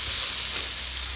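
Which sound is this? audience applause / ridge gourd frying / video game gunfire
ridge gourd frying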